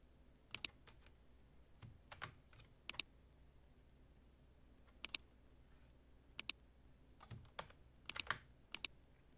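Someone typing a password on a computer keyboard, sparse sharp key clicks in small clusters with pauses between them, close and fairly quiet against a low background hum, no talk.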